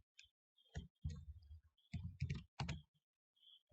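Keys on a computer keyboard clicked in short, quiet bursts of several taps with small pauses between, close by in an otherwise silent room.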